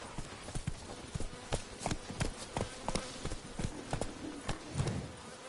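Horse hooves clip-clopping at a steady riding gait in The Witcher 3 video game, a rhythmic series of close, fairly loud thuds with no talk over them.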